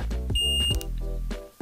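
XOSS G GPS bike computer beeping on GPS connection, a single short high electronic beep over a voice and background music.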